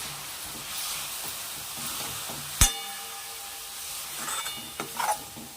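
Greens palya being stirred in a pan, with a steady low sizzle and hiss under a sharp metallic clack and a few scraping stirs near the end.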